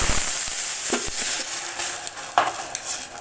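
Milk poured into hot ghee with cardamom, a close bubbling sizzle with a few sharp spoon or pan clinks and a bright hiss that fades slightly over the few seconds, no talking.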